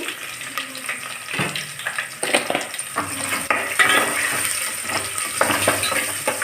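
Onions frying with salt in a pan, a hissing sizzle broken by scraping stirs and irregular clatters that keep up through the whole stretch, with no talk.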